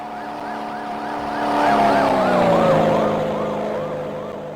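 A police car siren wails in a Japanese-themed horror video game, its rising and falling tone swelling loud as it passes close, then fading away over a steady rumble.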